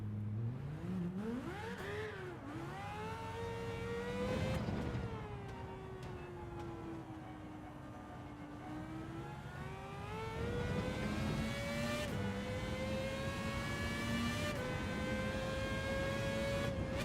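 Race car engine in Gran Turismo 7 revving hard through rising and falling pitch sweeps across several gear changes, a high whining tone that climbs, dips and climbs again, loud and continuous with no talk.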